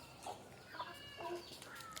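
Native country chickens clucking softly while feeding in the evening, several short calls scattered across the moment, fairly faint and close with no talking.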